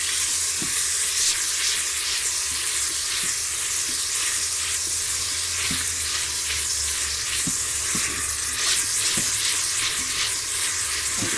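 Sizzling beef for stroganoff is stirred in an Instant Pot, a loud, steady close frying hiss broken by regular spoon knocks and scrapes against the pot, with no speech.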